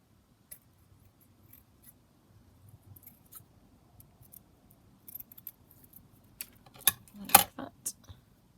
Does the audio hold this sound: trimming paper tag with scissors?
yes